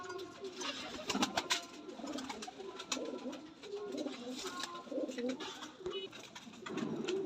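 A dub pigeon coos repeatedly in soft, low throaty phrases, close by, over a faint background of other noises.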